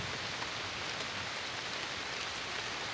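Rain falling outdoors around a jeep in the countryside, a steady, even hiss of many drops at constant level, close and continuous with no talk.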